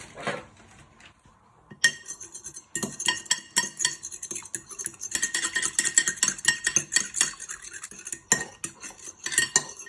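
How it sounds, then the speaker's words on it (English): A fork whisks eggs for a fish finger coating, giving rapid, close metallic clinks and scrapes against a bowl, brisk and irregular for most of the stretch after a quiet opening. "you want to give them a little whisk with your fork"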